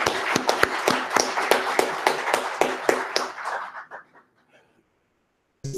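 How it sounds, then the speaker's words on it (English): A short burst of crisp, rhythmic hand claps, about a dozen, from an awards gala dinner audience, that fades away into silence after a few seconds. "let us give you a round of applause for being winners"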